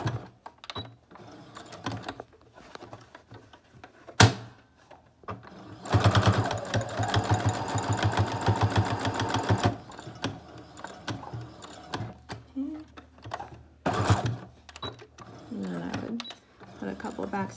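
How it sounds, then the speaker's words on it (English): Sewing machine running a steady burst of rapid stitching while backtacking over a pleated cotton face mask with lining, with short pauses and quiet handling before and after, and a person talking faintly around it. "so I can get the presser foot down over everything to secure it, and then I'll just go back over everything"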